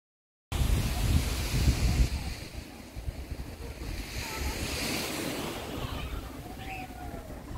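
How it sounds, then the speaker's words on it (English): Ocean surf washing onto Manuel Antonio beach in Costa Rica, a steady broadband roar of breaking waves with wind buffeting the microphone, loudest early on and then settling into a continuous wash. "we spent some time walking on the Manuel Antonio beach"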